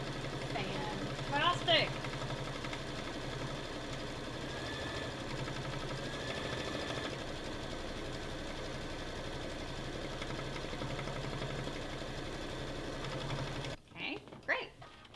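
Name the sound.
embroidery machine stitching down an appliqué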